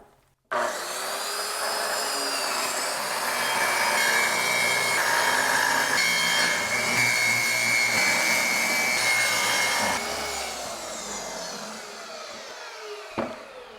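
A track saw rips through a large sheet of plywood, a loud steady motor whine and cutting rasp running continuously for about nine seconds before the blade winds down, ending with a faint knock.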